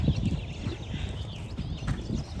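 Hooves of a gaited Rocky Mountain Horse walking over a ground pole during a riding lesson clip-clop close by in an uneven, steady rhythm of dull thuds.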